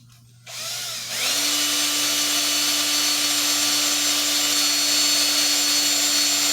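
A power drill bores into a pitot tube mock-up on an aircraft wing, starting with a short burst and then holding a loud, steady, high-pitched whine close by, with no talking.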